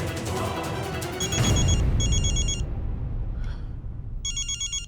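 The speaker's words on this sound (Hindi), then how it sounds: "अनमोल का ही फोन है, ले लो" A telephone rings in a domestic scene from the Hindi sitcom Wagle Ki Duniya, its electronic ring sounding in short repeated bursts, loud and near, over background room noise.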